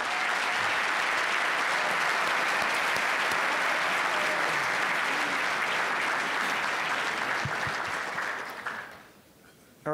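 An audience applauds steadily to welcome panelists at a West Point panel discussion, a dense, even wash of clapping that lasts several seconds before fading out near the end.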